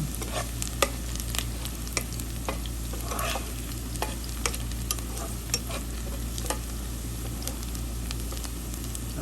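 Garlic and onion sautéing in a pan, a steady close sizzle with scattered light pops and occasional scraping stirs, fairly quiet throughout.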